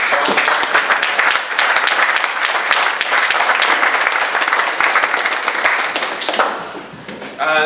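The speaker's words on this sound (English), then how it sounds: "So I'd like to give a round of applause." An audience gives a round of applause: dense, continuous clapping, loud and close, holding steady for about seven seconds before thinning out at the end.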